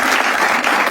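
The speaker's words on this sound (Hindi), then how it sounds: "एक बार जोरदार तालियां हो जाए श्रेया प्रियम के जबरदस्त खेलने के लिए।" A comedy show audience gives loud, dense applause, a brief close burst of many hands clapping.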